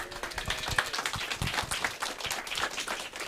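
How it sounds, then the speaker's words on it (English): Audience at a commitment signing event applauds an alumni club president, a dense patter of claps filling the room for a few seconds without voices. "So everybody give a nice round of applause"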